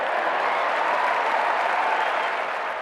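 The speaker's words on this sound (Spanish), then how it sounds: "Empezaron los aplausos" Crowd applause at a public gathering celebrating an inventor: dense, steady clapping from many hands filling the whole stretch, even in loudness and fairly distant-sounding, with no speech over it.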